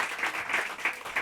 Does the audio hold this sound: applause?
yes